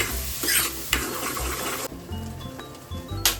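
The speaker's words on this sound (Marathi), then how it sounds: "मसाला परतून घ्यायचा 15 मिनिटापर्यंत. चांगला शिजला पाहिजे मसाला." Masala sautéing in hot oil in a pan, a steady sizzle with scraping stirs and a few clinks of a utensil against the pan, close and moderately loud.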